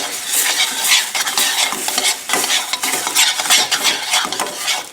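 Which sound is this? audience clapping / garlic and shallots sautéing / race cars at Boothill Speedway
garlic and shallots sautéing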